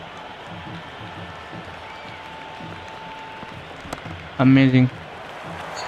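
A stadium crowd in the Cricket 26 video game cheers and applauds a boundary as a steady, distant roar, with a brief spoken exclamation cutting in near the end.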